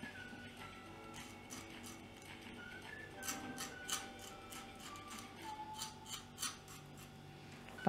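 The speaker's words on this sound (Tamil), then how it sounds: "சைடுல இருக்கிற ரெக்கைய கட் பண்ணிடலாம்" Scissors snip the side fins off a sardine (mathi) during cleaning, a series of crisp close clicks and cuts coming in an uneven rhythm over a quiet, faintly humming room.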